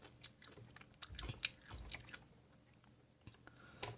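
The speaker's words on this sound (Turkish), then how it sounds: "Bir tane acı biber yiyeceğim." Someone eating a hot pepper, with a few close, moist bites and crunches spread irregularly over a few seconds and quiet gaps between them.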